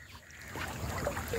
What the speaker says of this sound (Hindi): मोटर बोट का तकरीबन 80 की स्पीड से बोट जा रही है यार